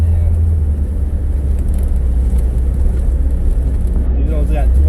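Corvette with a 205-horsepower small block 350 V8 rumbling steadily at idle, a constant low drone with a faint voice briefly over it.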